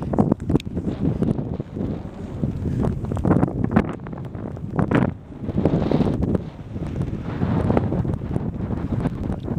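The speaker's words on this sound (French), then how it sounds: "plus le vent il est merdique là" Strong gusty wind buffeting the microphone on a beach while flying a wing, a loud rumbling roar that surges and dips, with faint rustling underneath.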